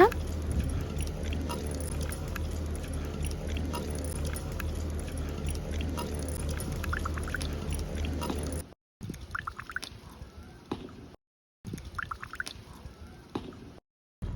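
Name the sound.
dissolving tamarind in water for clay pot fish curry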